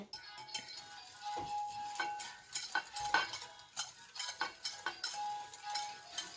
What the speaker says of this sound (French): Après, on mélange.